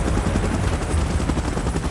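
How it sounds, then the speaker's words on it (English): A helicopter in the PUBG Godzilla vs Kong game mode, its rotor a loud, dense, steady beating whir that fills the whole moment with no pause or voice. "Chopper in position."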